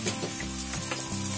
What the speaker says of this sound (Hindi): तो तेल हमारा हीट हो गया है, जिसमें हम आलू और ब्रोकली डाल देते हैं।